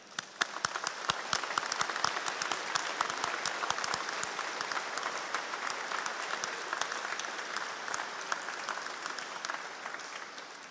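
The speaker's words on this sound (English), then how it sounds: "I think that deserves a round of applause." An audience at a university matriculation ceremony applauds steadily, with dense, even clapping holding at a fairly distant level throughout and no voices rising above it.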